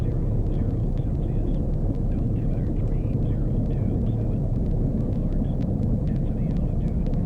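A small airplane rolls along the runway just after touchdown with power pulled back: a steady, loud engine and wind rumble fills the cabin, with a voice talking over it.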